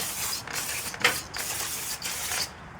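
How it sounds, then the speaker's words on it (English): Several short bursts of aerosol cleaner spray hissing close up onto brake rotors, roughly one every half second, separated by brief pauses. "spray these things down"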